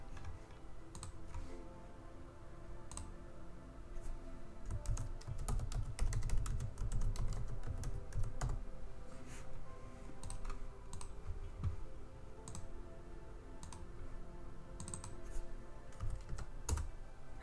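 Keys clack on a computer keyboard while text is entered in Cricut design software, with scattered single keystrokes and a denser flurry in the middle, close and fairly quiet, with no talking.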